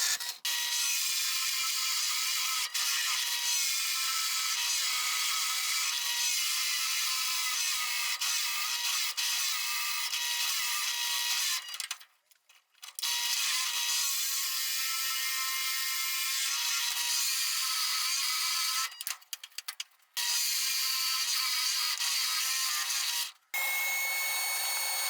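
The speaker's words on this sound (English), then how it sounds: "My little drill press was struggling there, but I got through all the holes" A small drill press fitted with a Forstner bit bores holes through wooden boards, a steady loud grinding whine that runs on, with brief pauses between holes and the motor sounding strained.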